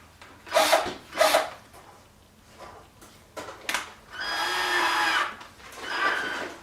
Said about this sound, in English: just grab your drill and